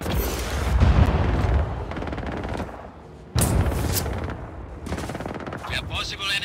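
Bursts of gunfire and booming explosions from the open-world action game Just Cause 4, loud and repeated in clusters with brief gaps, under faint game voice chatter.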